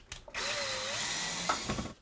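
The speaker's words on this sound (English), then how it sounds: "And we can screw this right up into the joist here." A power drill drives a screw up into a ceiling joist during a basement workshop overhaul, with a couple of quick bumps before a steady, close whir that runs about a second and a half and then stops.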